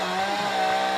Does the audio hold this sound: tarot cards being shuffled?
no